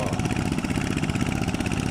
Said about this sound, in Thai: ใช้รถแท็กเตอร์นะคูบิต้าดีก่อนรอบแรก